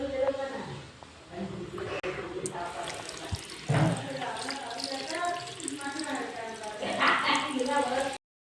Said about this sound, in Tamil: அங்கே சிந்த தண்ணியும் கொஞ்சம் ஊற்றிடலாம்.